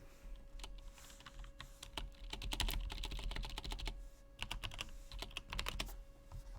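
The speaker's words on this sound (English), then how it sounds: "they love the typing noises" Rapid typing on a computer keyboard during a productivity stream, bursts of close, crisp key clicks with brief pauses between flurries, no talking.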